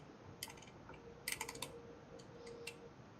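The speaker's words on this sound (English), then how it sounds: "Here's the clicking sound." A 12-position rotary switch is turned through its detents, giving a few faint, quiet clicks: scattered single ticks, then a quick cluster of several clicks, over low background hiss.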